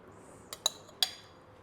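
Raw fish being stirred into ceviche sauce in a bowl gives a few light, quiet clinks of utensil against the bowl, close by, with near silence between them.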